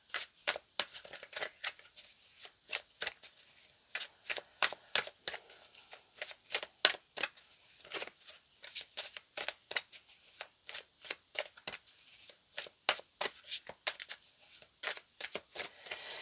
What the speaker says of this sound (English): let's pull out a few more tarot cards here and see.